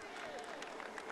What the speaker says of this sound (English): the crowd here, you can hear them all the time, clapping and constantly applauding the riders as they go through